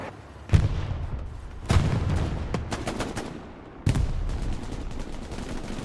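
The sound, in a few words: medium tank firing smoke rounds in Hell Let Loose video game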